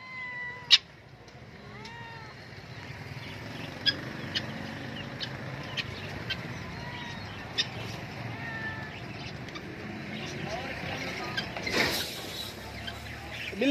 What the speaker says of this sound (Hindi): बिल्ली बड़ी खूबसूरत है। केर नस्ल की बिल्ली है सही?